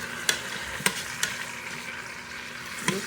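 Pork chunks for carnitas sear in a hot pan, a low steady sizzle with a few sharp clinks of a utensil against the pan, close and clear with no voices.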